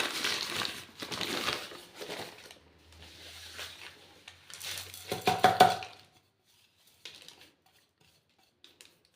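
Three ingredients are crushed into powder inside paper, giving bursts of crinkling, scraping and crunching in the first six seconds, then a few faint taps before near silence.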